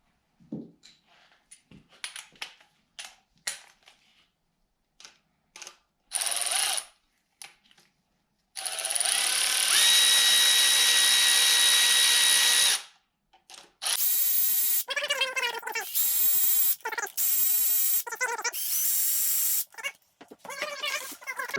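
Ratchet and extension working on cylinder head bolts of a turbo Camaro with 243 heads: scattered metallic clicks and clinks, then long stretches of loud, dense mechanical noise and rapid ratcheting close by.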